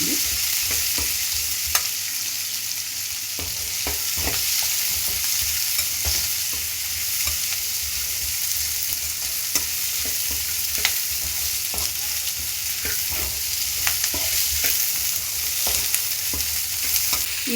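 Onions sizzle in hot oil for a paneer curry while a utensil stirs them, giving a steady, close frying hiss broken by repeated scraping strokes against the pan.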